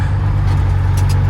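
A truck engine in a local trucking rig idles with a steady low rumble and slight revving as the driver works through the gears, close and loud with no talk.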